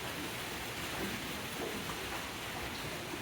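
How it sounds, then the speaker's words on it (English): Steady rain from a passing Hurricane Ian band pours down continuously with a broad hiss, dense and unbroken for the whole stretch with no voices. "there's a band of rain that comes through"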